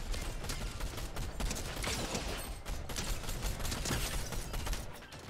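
Continuous gunfire in a Fortnite match: dense, rapid volleys of shots crackle without a break, loud and close, with mechanical clatter mixed into the barrage.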